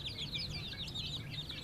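An Aseel rooster gives a quick run of short, fairly loud clucks and chirpy calls, close by over a low rumble of background noise.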